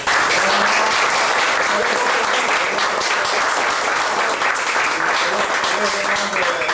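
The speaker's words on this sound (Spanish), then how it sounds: "yo creo que la exposición que ha hecho Eduardo merece un gran aplauso." Audience applause following a lecture on the Sovietization of Cuba: dense, sustained hand clapping from a seated crowd, steady and fairly loud throughout with no talking heard.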